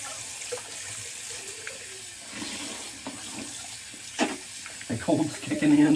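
Cold water runs steadily from a tap into a sink during a wet shaving routine, a continuous hiss with faint splashes and handling sounds, growing louder near the end.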